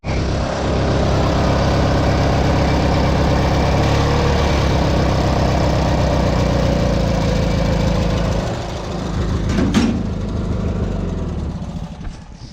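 A garden tractor engine revs loudly and steadily near the microphone, then drops in pitch and volume toward the end before a brief rattle, with no talking.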